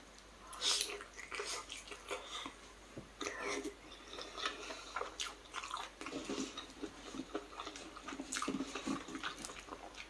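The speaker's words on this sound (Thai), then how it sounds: "อนุญาตกัดเด้อ" Someone bites and chews spicy Thai chicken salad (sua kai) at a home meal, with soft wet crunching and smacking sounds in irregular bursts, close and fairly quiet.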